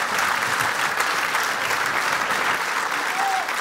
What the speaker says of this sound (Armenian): Ծափերը ստեղ։